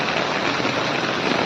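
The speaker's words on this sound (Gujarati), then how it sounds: "વરસાદ ચાલુ છે." Steady rain pours down on Palitana Road in Gariyadhar, a dense, even hiss of drops striking the street and shop roofs, close and continuous.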